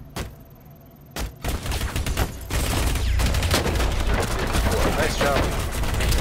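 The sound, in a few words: gunfire through a cabinet in the video game Rainbow Six Siege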